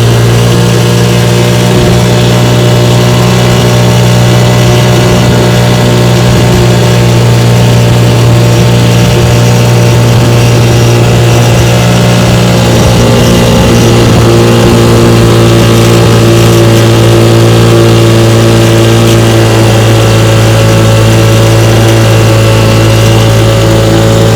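A restored Evinrude Model 3706C outboard boat motor running after starting, a loud, close, steady droning hum that holds even throughout with no pauses.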